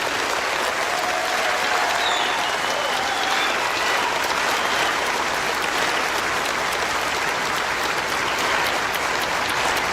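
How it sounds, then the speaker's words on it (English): Sustained applause from a large crowd at a graduation ceremony, dense and even clapping throughout, with no talking over it. "Let's give them a round of applause."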